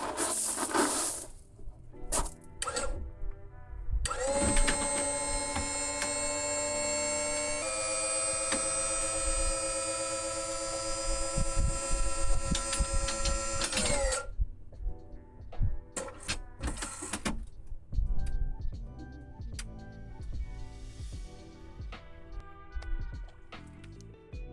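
Electric jack pump powered from a Nissan GTR's battery lifts the car with a steady mechanical whine and hum lasting about ten seconds, framed by clunks, clicks and handling noises close by.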